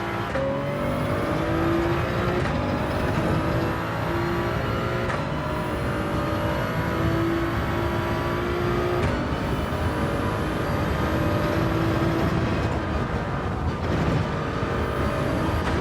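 A race car in Gran Turismo 7 during a daily online race roars loudly and continuously, its engine note rising and dropping through repeated upshifts and throttle lifts as it runs through corners, with no talk over it.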